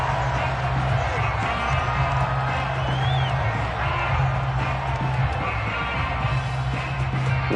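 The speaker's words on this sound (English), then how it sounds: "Plenty of shouts from this crowd as they watch the replay" Football stadium crowd at a Detroit Lions game shouting and cheering during a replay, a dense, steady roar of many voices filling the whole stretch with loud, continuous noise.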